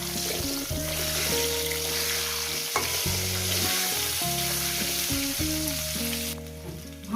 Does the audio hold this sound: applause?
no